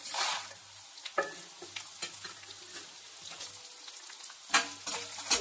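Dry red chillies, cumin and chana dal tempering in hot oil over a low flame, with a close crackling sizzle and irregular scrapes and taps of a stirring spoon, rising louder near the end.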